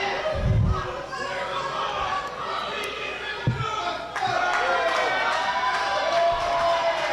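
Wrestling show crowd in South Philly cheering and shouting for a wrestler, a busy roar with scattered yells and thumps, under a commentator's talk.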